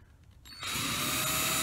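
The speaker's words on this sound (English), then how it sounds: "If you let the drill kind of eat its way through instead of pushing it" After a brief quiet start, a power drill spins up and bores through a thin wooden piece, a loud steady whine that holds to the end.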